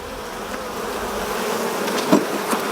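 Africanized honey bees at an open hive make a steady, dense buzz throughout, close and moderately loud. A couple of faint knocks from the hive equipment come near the end, and no one speaks.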